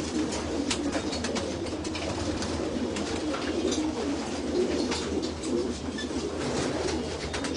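Flock of domestic pigeons cooing steadily over a dense, constant bed of rustling and chatter in a loft as they are fed, close and continuous throughout.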